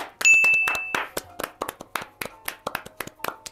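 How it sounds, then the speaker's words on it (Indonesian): Hands clapping at a podcast recording, a burst of quick claps followed by a looser, spaced-out run of individual claps, close and fairly loud. "Tepuk tangan."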